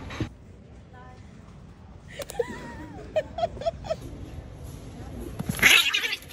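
Cat meowing while begging at a hotel breakfast in Zanzibar, a few short nearby mews in a row amid outdoor chatter and clinking, with a sharper cry near the end.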